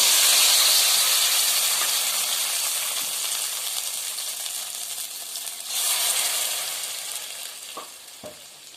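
Ground masala fries in hot oil in a kadai with a loud, steady sizzle that slowly fades, broken by a brief flare of hissing and a couple of light utensil knocks near the end.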